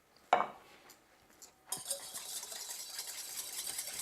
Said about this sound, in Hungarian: az egészet egy habverő segítségével elkeverjük